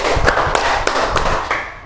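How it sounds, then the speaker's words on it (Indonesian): A classroom of students doing a counting ice-breaker: sharp group claps in a rhythmic pattern, several loud synchronized bursts spaced across a couple of seconds. "Tepuk 1, tepuk 2, tepuk 3, tepuk 4, tepuk 5."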